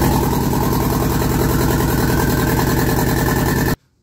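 A garage-built twin-turbo conversion engine in an Audi A4 B6 idling loudly close by with a steady, pulsing drone, then cutting off abruptly near the end.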